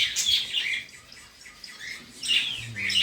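Small caged finches give a few high, thin chirps and squawks in short bursts, close by, with quiet pauses between calls.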